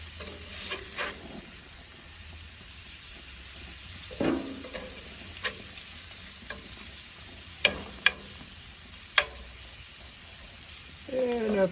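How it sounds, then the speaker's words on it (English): Food gently simmering and sizzling in a pan on a stovetop, a low steady fry with a few scattered scrapes and clicks as it is turned over, and a brief clatter near the end. "you can already see it's starting to simmer, so I'm gonna go ahead and start turning it over a little bit"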